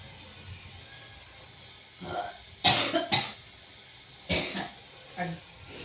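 Someone with a cold coughs several times in short, harsh bursts, near and fairly quiet, with small throat-clearing sounds between them. There is no speech.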